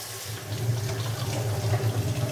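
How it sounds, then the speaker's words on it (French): Fresh mineral water poured steadily into a jar of blood orange syrup, a continuous close splashing stream with a full, gurgling body throughout. "Maintenant que le sirop est dans le pot, il faut mettre l'eau."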